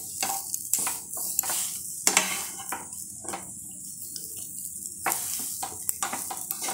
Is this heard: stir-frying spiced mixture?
yes